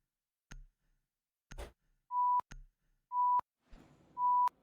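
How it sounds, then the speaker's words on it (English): Sharp clicks alternating with three short, steady electronic beeps through a commentator's microphone during a broadcast esports match, each lasting about a quarter second, clean and close with silence between. "Beep."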